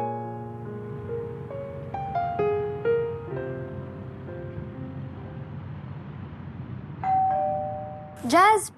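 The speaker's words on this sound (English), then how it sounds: "pakitingnan nga kung sino yung nag-doorbell" A doorbell chime plays a descending run of tones, then a separate two-note ding-dong rings out near the end, with a voice faintly underneath.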